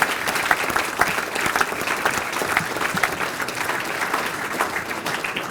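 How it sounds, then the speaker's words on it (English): A dinner audience at a rugby league club celebration gives sustained applause, with dense steady clapping and a few louder claps, close and loud throughout. "Give him a massive round of applause"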